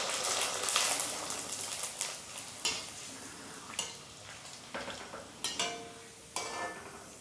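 Suji papad deep-frying in hot oil in a kadhai: a continuous soft sizzle punctuated by repeated sharp clicks and taps of a utensil against the pan, close and moderately loud.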